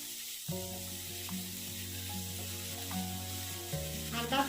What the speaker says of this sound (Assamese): ইয়াতে এতিয়া মই এই বাবৰি শাকখিনি ঢালি দিলোঁ। দি এইখিনি ভালদৰে অলপ সময় ভাজিব লাগিব।